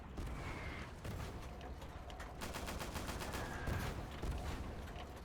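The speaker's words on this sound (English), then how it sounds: "Bloody enemy artillery." Rapid battlefield gunfire in the WWII shooter Easy Red 2, French campaign, with distant artillery blasts mixed in. The volleys crackle continuously and loudly, with no one talking.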